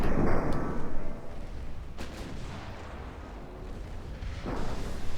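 An ammunition detonation tears through a warship in a naval combat video game, a loud booming blast up front followed by a long rumbling roar that swells again near the end.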